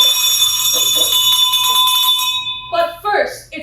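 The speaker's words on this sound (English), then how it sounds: "it's the WOMG dinner bell!" A dinner bell rings loudly and continuously for about two and a half seconds as part of a stage acting performance, with voices talking over it and continuing after the ringing stops.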